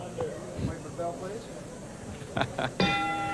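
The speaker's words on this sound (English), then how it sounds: "There's a bell for round 2." A kickboxing match bell in a 1988 bout rings briefly near the end, struck a few times under a commentator's ongoing talk and crowd noise.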